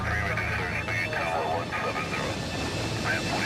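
A Colgan flight's airliner engines roar steadily as it is cleared for takeoff from Newark at night, a constant loud drone under a voice-over narration.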